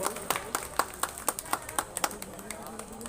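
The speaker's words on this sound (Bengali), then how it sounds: "গড় গড় করে হাততালি পড়ো" An audience at a religious festival gathering claps hands in a steady rhythmic beat, about three sharp claps per second, moderately close with faint voices underneath.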